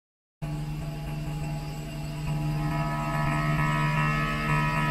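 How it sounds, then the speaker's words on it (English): An inverter refrigerator compressor runs steadily after a control board install, a constant low mechanical hum with tonal whine, nearby and continuous, growing slightly louder midway. "This is the sound of the compressor working."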